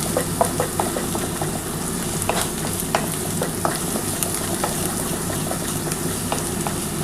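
A steady sizzle of ginger, garlic and onion frying in a pan, with light scraping and tapping of stirring throughout; no one speaks.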